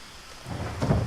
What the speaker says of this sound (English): I thought that was thunder for a moment